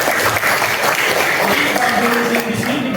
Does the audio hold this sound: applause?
yes